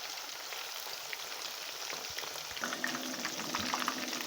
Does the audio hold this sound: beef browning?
yes